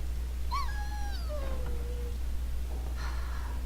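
A dog whimpers in the fantasy role-playing game Dragon Age: Origins: a single high, thin whine slides downward and fades, followed by a brief faint sound over a steady low hum.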